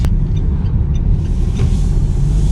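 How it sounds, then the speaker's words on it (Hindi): A car slowing down under engine braking, with a loud, steady low engine and road rumble filling the whole span from a close, in-cabin perspective; no speech. "धीरे धीरे इंजन ब्रेकिंग के वजह से गाड़ी ऑटोमेटिकली स्लो डाउन हो गया।"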